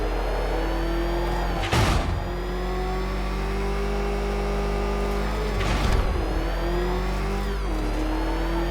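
Vehicle engine in the Batman Arkham Knight video game, a loud, sustained mechanical hum with shifting revs, broken by two brief crashing bursts.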